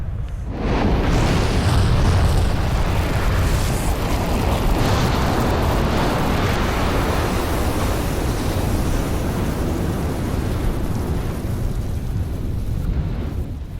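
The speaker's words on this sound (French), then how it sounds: "en ce moment, toutes les minutes à peu près, il y a une explosion" A deep, continuous roaring rumble of a volcanic eruption in Vanuatu swells in and holds loud for over ten seconds, like a sustained volcanic blast, then eases slightly near the end.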